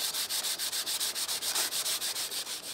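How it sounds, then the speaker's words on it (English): Rhythmic back-and-forth rasp of 80 grit sandpaper scuffing a painted surface and lifting old paint finish, steady close strokes repeating about six times a second with no voices. "what I'm using is an 80 grit sandpaper"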